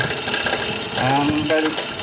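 A refrigerator fan motor, faulty and in need of replacement, runs with a droning mechanical whine and faint rattle, close up, while someone talks over it.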